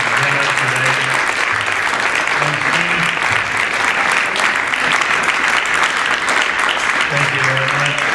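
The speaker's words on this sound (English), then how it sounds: "I want to have a round of applause for all my presenters" Sustained, loud applause from an audience for presenters at an emergency preparedness and technology session. Many hands clap in a continuous dense wash, with voices murmuring faintly underneath.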